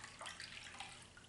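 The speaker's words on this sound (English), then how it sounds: "the reason why you put water in the pan" Water running and splashing into a baking pan around a flan dish for an oven water bath, a steady, close pouring wash that continues unbroken for the whole short stretch.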